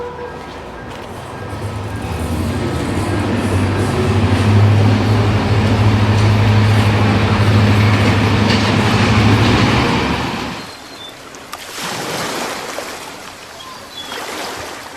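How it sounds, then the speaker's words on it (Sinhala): A train passes close by on the south coast near Koggala, Sri Lanka, with a loud rumbling roll and a sustained tonal horn that cuts off sharply, followed by fainter clatter. "ඇහෙනවනේ ට්‍රේන් එකත් නලාහන රංගගෙන යනවා ඒ දිහාවට"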